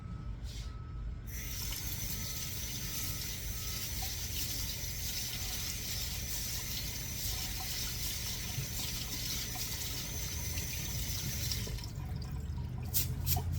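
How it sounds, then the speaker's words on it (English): A pound of rice being rinsed under running water from a tap, a steady continuous wash of water that holds throughout at moderate level, with no talking. "So I am going to rinse the pound of rice."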